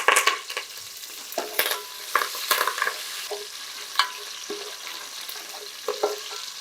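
Green chillies and curry leaves frying in a pan for Karnataka-style bisi bele bath, a steady sizzle broken by scattered spoon scrapes and clinks, close and without speech.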